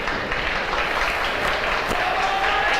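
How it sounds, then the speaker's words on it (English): A basketball crowd stands and cheers for a departing player, producing a steady wash of applause and crowd noise that holds evenly throughout at moderate loudness. "He's coming off the floor, and they are standing and cheering for Bongani Moyo."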